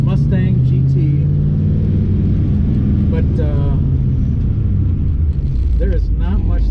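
A Kenny Brown-built 2005 Mustang GT CSR engine drones with a steady, loud low rumble on a test drive, with a voice talking over it almost throughout.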